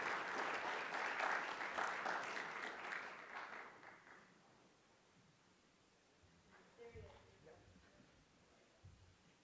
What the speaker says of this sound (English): Ladies and gentlemen, a warm round of applause for Dr.